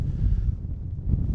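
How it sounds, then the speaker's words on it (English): Strong wind blows across an open golf course, buffeting the microphone in a loud, low, rumbling roar that surges and eases. "That just shows how flipping windy it is."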